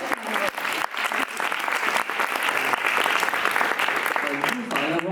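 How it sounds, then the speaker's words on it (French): An audience applauds a male guest at a vlog gathering: dense, continuous clapping from many hands, close and loud, lasting throughout with a few cheers mixed in. "on l'applaudit encore plus fort"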